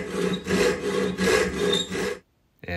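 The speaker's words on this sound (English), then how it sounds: "created the same taper using a file" A hand file rasps along a tapered wooden dowel in several long, steady back-and-forth strokes, close and fairly loud, stopping abruptly near the end with a brief scrape after a short pause.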